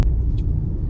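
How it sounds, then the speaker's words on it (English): Steady low exhaust rumble from a 2020 Mercedes-Benz C43 AMG heard from inside the car while driving in normal mode, a continuous deep drone with no speech over it. "I can hear the exhaust from the back and it just sounds really"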